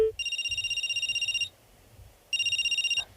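Electronic telephone ringtone from a call to a friend, two bursts of a bright warbling trill about a second and a quarter long each with a pause between, clear and alone.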